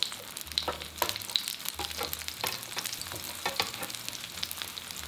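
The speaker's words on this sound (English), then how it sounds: "Pan fry until golden brown on this side too, 2 minutes." Chive pockets wrapped in spring roll wrappers pan-fry in avocado oil, giving a soft, steady sizzle with scattered light crackles and pops throughout, close by and with no talking.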